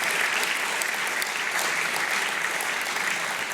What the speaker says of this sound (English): how about a round of applause for the entrepreneurs here tonight from Sweden